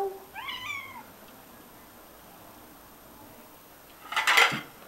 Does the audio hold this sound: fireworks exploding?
no